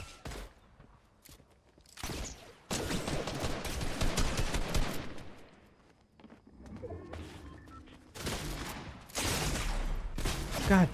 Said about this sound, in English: Like, what gun even was that? A heavy shotgun?